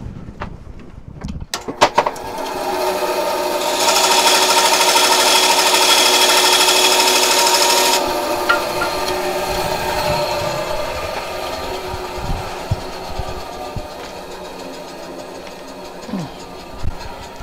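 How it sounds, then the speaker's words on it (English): A bandsaw cuts through a piece of a metal fork, a loud steady whine of blade on metal building over several seconds and then easing off into the lower hum of the running machine. "Now I'm going to cut this off with the bandsaw real quick."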